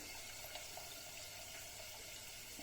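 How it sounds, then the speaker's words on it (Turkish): Hot water pours steadily over rice with a little butter in a pot for liver maqluba, a soft continuous splashing rush that stays even and fairly faint throughout, with no speech. "Pilavımızın üzerine birazcık tereyağı da koyarak sıcak suyumuzu veriyoruz."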